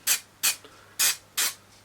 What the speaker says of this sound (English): I use the adhesive and spray